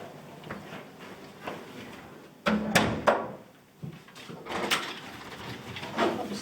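Door opening indoors, with a sharp click and clunk of the latch near the middle and a softer knock shortly after, over quiet background room noise.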